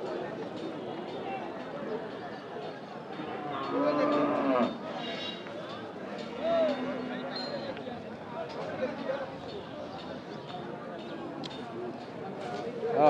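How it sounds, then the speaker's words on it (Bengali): Cattle, mostly medium-sized bulls suited to farming, low and moo at a busy rural cattle market, their calls rising briefly amid constant nearby talk and crowd bustle. "এইদিকে দর্শক, আমরা একটু মঞ্জুর ভাইয়ের এই গরুগুলো দেখাচ্ছি।"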